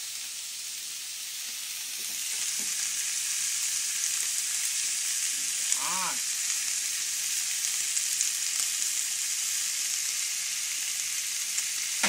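Kaldereta fries in a pan, a strong continuous hiss that swells after the first couple of seconds and holds steady, with scattered light stirring scrapes and one brief tonal squeak midway.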